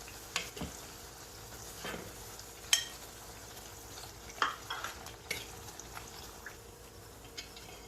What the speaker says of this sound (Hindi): इन्हें आगे पीछे करके अच्छे से फ्राई कर लीजिए।